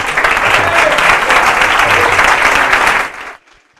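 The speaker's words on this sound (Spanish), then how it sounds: "Un aplauso, por favor." A conference audience at a Pint of Science talk gives sustained, dense applause for a speaker. The clapping stays loud and even for about three seconds, then stops abruptly into near silence.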